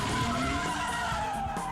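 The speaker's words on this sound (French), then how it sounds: "Les finalistes ont eu droit à une démonstration de drift hors du commun." A car drifts with long, continuous tyre squeal under a steady engine roar during a drift demonstration, sustained and close throughout.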